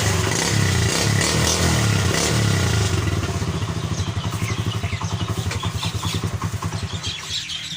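A motorcycle engine is started and sputters into a rough, rapid idle, its firing pulses steady and close by after a noisy cranking start.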